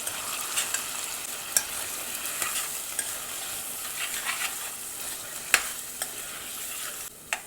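Frozen spinach with salt and turmeric is stirred in a pan, soft sizzling under a string of scraping and tapping spatula strokes, some sharp, spaced irregularly and close by, no speech.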